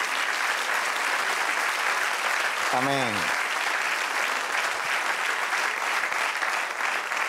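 Sustained applause from a church congregation fills the whole stretch, steady and dense, with a single voice briefly speaking over it near the middle.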